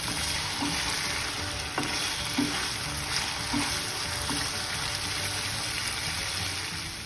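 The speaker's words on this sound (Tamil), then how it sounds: "நல்லா ஃப்ரை ஆகிட்டு இருக்கு" Chicken pieces frying in a pan while being roasted for colour, a steady loud sizzle with occasional stirring scrapes and knocks, no talk.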